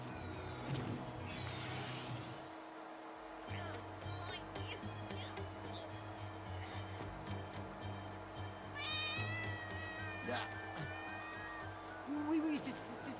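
A cat meows repeatedly in a cartoon episode, short mewing calls scattered over background music while someone talks over it.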